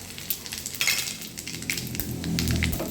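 Cumin seeds dropped into hot oil for tempering sizzle and crackle steadily, with a few metallic clinks of a utensil against the pan, the frying growing louder toward the end.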